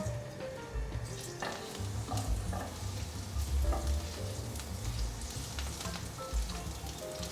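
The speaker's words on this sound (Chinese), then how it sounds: "锅内放入少许油，把香菜的梗放进来炒香。" Coriander stems stir-fry in a little hot oil in a wok, giving a continuous close sizzle with a spatula scraping and stirring in irregular strokes, no voices.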